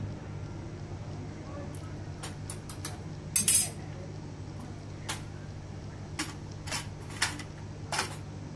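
A spoon clinks and scrapes against a metal pot of moong dal in scattered strokes, with a steady low hum in the background.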